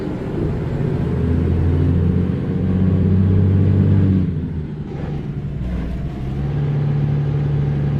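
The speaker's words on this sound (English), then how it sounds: "it's a busy truck stop here" Steady low engine rumble from idling and passing heavy trucks at a busy truck stop, loud and continuous, with a slight swell as one revs nearby.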